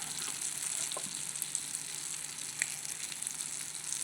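Fish pieces dusted with garam masala frying in a lightly oiled pan, a steady close sizzle running throughout with faint scrapes as the pieces are turned.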